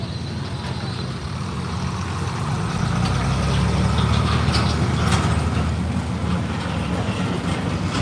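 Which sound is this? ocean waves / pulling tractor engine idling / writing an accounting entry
pulling tractor engine idling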